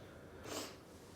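One short, faint nasal sniffle from someone with a cold, a single breathy snort in an otherwise quiet moment.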